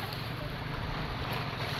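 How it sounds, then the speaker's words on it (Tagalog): Pacific Ocean surf makes a steady, wash-like roar, mixed with wind buffeting the microphone. "nasa karagatan tayo, Pacific Ocean."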